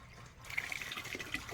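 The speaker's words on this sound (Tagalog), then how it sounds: "Pagka ganyan lang bomba ko, tuloy-tuloy ang tubig ng ganyan." Water gushes steadily from a hand pump into a bucket, close and continuous with a bright splashing trickle throughout, alone without talk.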